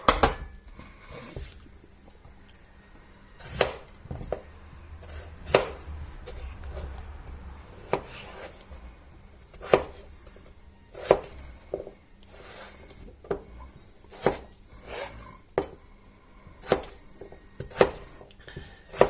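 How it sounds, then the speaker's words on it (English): A knife cubing potatoes on a cutting board, with sharp intermittent chops and taps spaced irregularly, fairly close and moderately loud over a quiet kitchen background. "Now I'm going to cube the potatoes"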